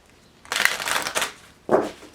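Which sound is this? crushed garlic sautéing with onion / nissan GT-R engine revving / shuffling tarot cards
shuffling tarot cards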